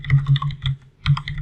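Quick keystrokes on a computer keyboard while a company name is typed, a close, crisp run of about eight clicks in two short bursts with a brief pause between them.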